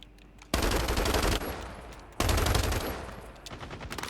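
Machine gun fire in the mobile shooter game Call of Duty Mobile, two sustained bursts of rapid shots, loud and close, separated by a short gap and trailing into quieter game ambience.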